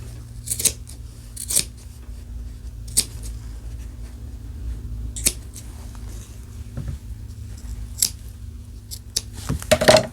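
Scissors snip through fabric for a sewn tote bag in a series of sharp, separate cuts spaced irregularly over ten seconds, close and crisp against a low steady hum, with no speech.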